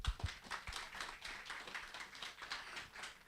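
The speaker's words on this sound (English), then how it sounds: "Once again, let's give a big round of applause." Conference hall audience at an international economics conference gives a round of applause, scattered fairly faint clapping with uneven rhythm, heard alone for a few seconds.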